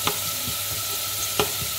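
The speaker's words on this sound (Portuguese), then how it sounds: "Vou deixar a cebola murchar um pouquinho." Chopped onion softening in a hot pan, a continuous sizzle with a couple of sharp stirring scrapes of the spoon, no talking.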